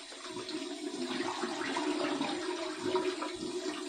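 Water runs steadily from a tap into a sink as a honeycomb shave bowl is rinsed, a constant soft splashing rush heard close and alone.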